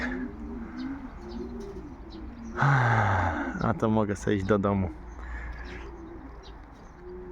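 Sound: pigeons cooing

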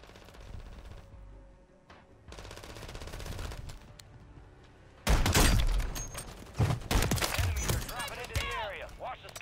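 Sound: sniper gunfire in the video game Warzone

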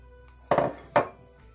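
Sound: stirring sugar into mashed banana in a bowl

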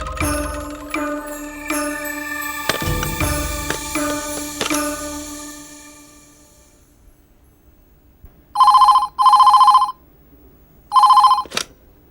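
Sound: telephone ringing

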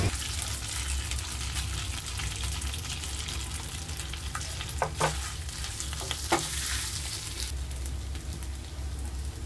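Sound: mashed potato tempered in oil with mustard seeds, curry leaves

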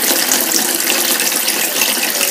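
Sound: cold water running into a basin to soften carrots

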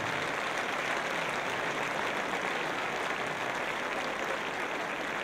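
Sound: applause for the young orchestra players

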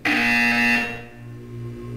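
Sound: buzzer sound in the video game Portal 2

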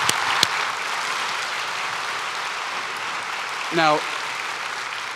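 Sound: applause for guests at SAP keynote

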